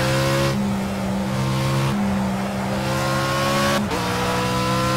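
A GT3 race car at Brands Hatch in a racing video game, its engine droning loud and steady with pitch steps at each gear change and a sharp shift near the end, no talk.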